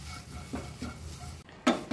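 Curry leaves and coriander dry-frying in a hot pan, soft sizzle with a few scraping stirs of a spatula against the metal, close and alone without talk.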